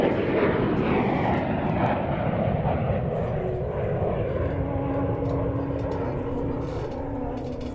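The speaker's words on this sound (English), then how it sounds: "We want to hear the sound of this wonderful Vulcan, so stop your music." An Avro Vulcan jet bomber roars overhead, a loud, broad, steady rumble that slowly fades slightly over several seconds without any speech.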